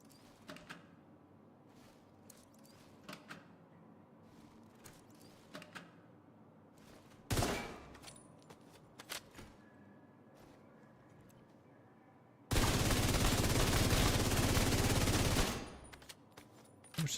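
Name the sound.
gunfire at the shooting range in The Division 2 video game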